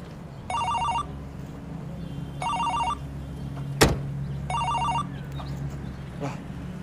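A mobile phone rings from somewhere nearby in three bursts of a repeated electronic trill, heard over a steady low rumble of engine or room noise, with a sharp thump midway and no talking.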